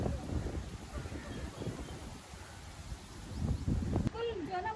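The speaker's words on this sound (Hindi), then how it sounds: "हवा चल रही है काफ़ी।" Strong wind blowing outdoors at Safari Park in Karachi, a steady rushing roar with gusts buffeting the microphone while people talk close by.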